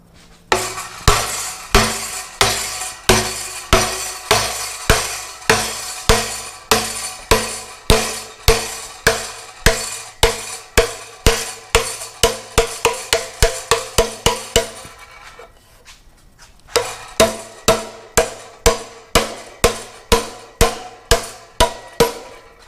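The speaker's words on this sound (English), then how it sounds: "I'll probably just take a hammer or something and beat this down to kind of bend it over" A hammer beats clamped sheet metal to bend it over, improvised without a metal brake. Loud, evenly spaced ringing metallic blows continue for a long run, pause briefly, then resume at the same rhythm.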